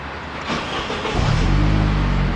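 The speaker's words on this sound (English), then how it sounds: "So if I start my car now" A Saab 9-3 car engine cranks and catches, then settles into a loud, steady idle that continues alone to the end.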